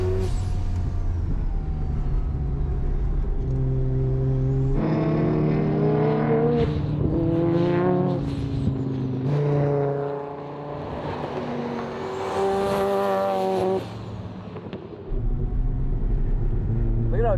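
A rotary-engined Corvette accelerates hard through the gears, its engine note climbing in pitch, dropping at each shift and rising again, loud and close from inside the car, with occupants talking over it.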